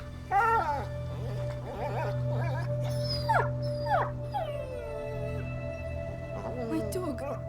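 Dog in the video game A Plague Tale: Innocence whimpering, yipping and letting out wavering howls, several cries in sequence over a steady low ambient drone.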